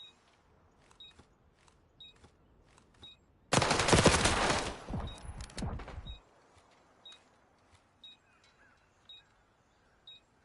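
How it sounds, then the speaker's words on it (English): A burst of rapid automatic gunfire from a team-based shooter video game match roars for a few seconds amid faint periodic beeps and soft clicks, then fades back to quiet game ambience. "This is going to be a huge gunfight between Marksman and Lovewins."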